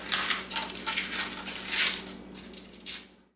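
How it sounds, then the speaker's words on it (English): Aluminum foil is peeled away from a pan of baked brownie bars, a continuous close crinkling and crackling rustle that fades near the end, with no voices. "Peel away this foil."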